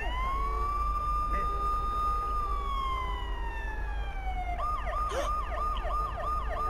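A wailing ambulance siren from the video game Watch Dogs sweeps in long rising and falling tones, then switches to a rapid yelping pattern, loud and continuous over steady background noise.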